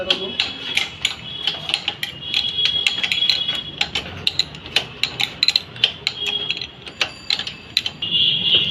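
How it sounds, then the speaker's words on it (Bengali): A 19 mm nut is worked loose on a Yamaha Libero motorcycle, giving a steady run of sharp metallic ticks and clinks from the wrench, close and fairly loud with brief pauses between clusters. "এখানেও একটা উনিশ নম্বর সেম নাট আছে আমি খুলে নেব"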